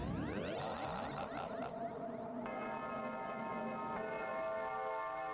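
A single bell tolls its final ring in the Ys 2 game on TurboGrafx-16, a bright metallic strike around mid-clip whose tone hangs and slowly fades over a dense, synthesized musical backdrop.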